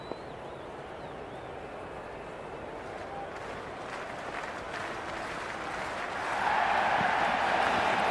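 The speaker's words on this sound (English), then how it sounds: "already the crowd making a hell of a racket" Stadium crowd noise in a Big Bash cricket video game, Sydney Thunder versus Hobart Hurricanes: a steady roar of applause and cheering that holds through the clip, then swells louder near the end.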